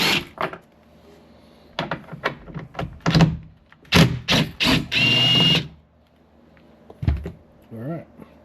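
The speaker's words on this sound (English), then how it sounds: "Putting it in our drill." Power drill with a star bit backing bolts out of a Jeep during a cargo rack install: several short, loud bursts of whirring, with clunks and a brief spoken remark between them, close by.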